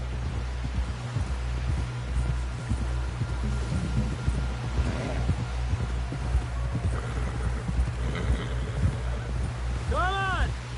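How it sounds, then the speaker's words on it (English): In Red Dead Redemption 2, a horse's hooves clop steadily and closely under ongoing voices and wind, and a horse whinnies near the end. "Someone help John down off this horse."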